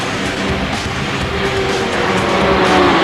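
Racing motorcycles roaring down a straightaway, a loud continuous engine drone with a rising whine as they accelerate, close and without talk.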